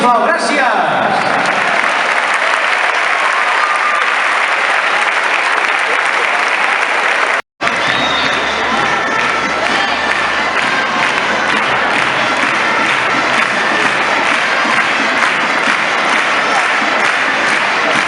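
Loud, sustained applause from a large audience at the Palau d'Esports during the Granollers Festa Major de Blancs i Blaus proclamation ceremony, with crowd noise and cheering running steadily and briefly cutting out midway.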